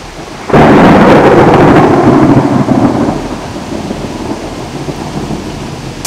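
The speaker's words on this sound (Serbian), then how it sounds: "Pogledajte ovo nevreme i recite mi da nisam u pravu." A thunderstorm breaks with a sudden heavy roll of thunder that rumbles and slowly fades over a continuous wash of loud rain, with no voices.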